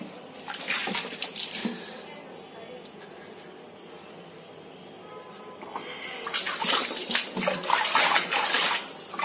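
Water splashing and sloshing in a tub in bursts while a Persian cat is wetted, with a quieter pause between the busier stretches.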